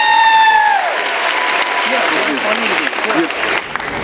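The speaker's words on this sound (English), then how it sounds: "Can you give a big round of applause to Dr. VGP and his whole team for putting on tonight's event?" An audience at a congressional awards gala bursts into loud, sustained applause that fills the room, following a tone from the sound system at the start.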